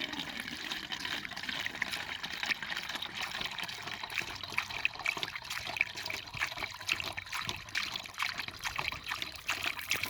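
Diesel exhaust fluid poured from a 2.5-gallon container through a funnel into the DEF tank of a 2011 BMW X5 xDrive35d, a continuous trickling, gurgling liquid flow throughout.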